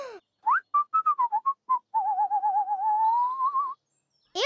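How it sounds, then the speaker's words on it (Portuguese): A person whistles a wavering tune alone: short rising notes, then a long trilling whistle that drifts upward before stopping. "você assobiou"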